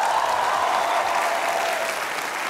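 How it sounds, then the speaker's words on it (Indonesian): Studio audience on an Indonesian TV talk show cheering and applauding as guests enter, with dense, steady clapping and crowd noise filling the whole stretch at close, loud level and no talk. "penonton hiruk pikuk."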